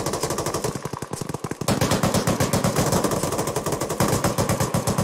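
Close, loud automatic gunfire rattles in long rapid bursts during an ArmA 3 infantry squad training session, with a brief lull before an even denser stream of shots.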